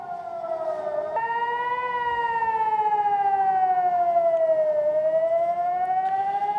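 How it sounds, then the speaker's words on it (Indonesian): Air raid warning siren wails over Jerusalem during an Iranian missile attack, a loud, steady tone that rises and slowly falls in pitch, sounding alone without voices. "rudal Iran yang masuk ke langit Yerusalem membuat sirine peringatan di kota tersebut kembali berbunyi"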